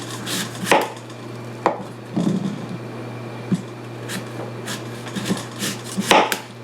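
A knife cutting the flesh off crab apples on a board: a few distinct, close chopping knocks spaced irregularly over a faint steady hum.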